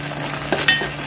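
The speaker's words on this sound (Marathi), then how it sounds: "आले लसूणची पेस्ट आपण चांगली परतून घेणार आहोत" Ginger garlic paste fries in a pan while a chicken curry is cooked. A close, loud, steady sizzle runs the whole time, with a couple of short stirring scrapes near the end.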